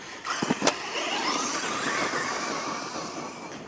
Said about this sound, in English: Let's give the car the full beans down the grass here.